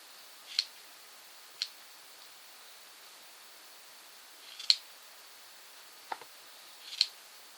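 Scissors snipping through a yarn pom-pom, a handful of separate sharp metallic clicks with quiet gaps between them, close and fairly faint in an otherwise silent room.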